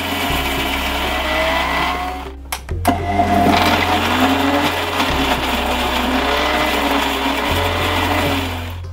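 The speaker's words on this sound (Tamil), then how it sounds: "இந்த வெங்காயத்தையும் தக்காளியும் இதிலேயே போட்டு ஒரு ஃபைன் பேஸ்ட்டாக அரைச்சி எடுத்துப்போம்" A blender grinding onion and tomato into a fine paste, a loud close motor whir that briefly stops and restarts, then keeps running steadily.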